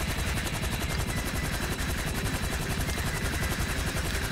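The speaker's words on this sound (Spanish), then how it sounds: "¿Este helicóptero no trae ganchito?" A helicopter in the GTA V video game gives off a steady, fast rotor chop with a dense engine roar. The sound is loud, close and unbroken throughout, with no voices over it.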